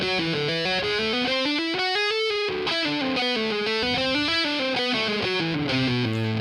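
Distorted electric guitar plays fast continuous legato runs, all hammer-ons, rising and falling across the fretboard through different modes, loud and steady with no talk.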